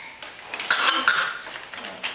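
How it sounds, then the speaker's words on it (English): A single person coughs indoors, a short rough burst of a few close coughs in a quiet room. "And we got a cough."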